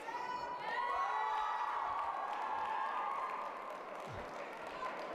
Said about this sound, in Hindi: ताली बजा रहे हैं ब्लू कॉर्नर की खिलाड़ी के समर्थक